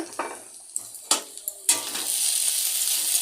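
Coconut paste hits a hot pan of oil with cumin seeds, chili powder, turmeric and salt, a few sharp sizzling bursts and stirring scrapes giving way to a steady, loud frying hiss that continues to the end.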